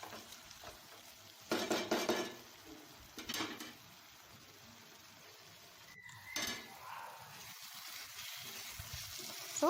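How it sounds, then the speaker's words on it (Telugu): A spoon stirs masala in a pan for gongura chicken curry, scraping and sizzling in short bursts with clinks against the metal, close and moderately quiet, without speech. "ఈ మసాలా మంచిగా దగ్గరగా పట్టేలాగా మంచిగా ఒకసారి కలుపుకుందాం."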